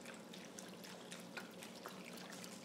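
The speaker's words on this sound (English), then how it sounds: "And then we're just going to pour that in there." Low-sodium chicken stock pours from a 32-ounce carton into a soup pot, a soft continuous trickling stream with faint splashes, quiet and close, no talking.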